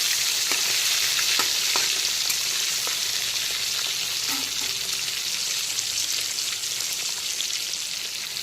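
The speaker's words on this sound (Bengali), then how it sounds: "মাছগুলোকে আমি উল্টো করে দিচ্ছি। এখন মাছের উল্টো দিকটাকেও খুব ভালো করে ভেজে নেব।" Bhola fish frying in hot oil with a ground peanut paste, sizzling steadily and close after being turned to the other side, with faint crackles and occasional pops throughout.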